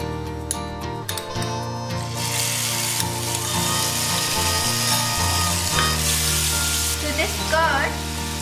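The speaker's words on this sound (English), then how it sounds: "now I'll be adding ginger garlic paste to this" Ginger garlic paste sizzles in hot oil with cardamom, cinnamon and bay leaf, making a loud, continuous crackling fry with occasional stirring scrapes over several seconds.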